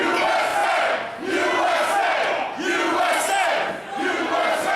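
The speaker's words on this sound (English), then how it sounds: "Crowd firmly behind the tag team of Luther Wilson III and PJ Thorn" A pro wrestling crowd chants loudly in unison in an arena, roaring in rhythmic waves of about one and a half seconds that rise and fall together, filling the space without letup.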